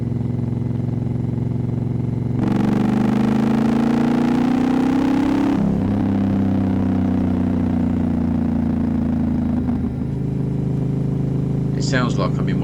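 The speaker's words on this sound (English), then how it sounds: "I'll do the acceleration test for you now." A Honda Africa Twin motorcycle with a loud aftermarket exhaust revs up hard, its engine pitch climbing steadily for a few seconds before dropping back and easing toward idle, close and prominent throughout.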